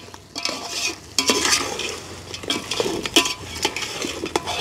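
Chicken stirred and frying in a pan for kallu chicken, with steady sizzling and repeated scraping, clinking stirs of a utensil against the pan, close and fairly loud, no voices.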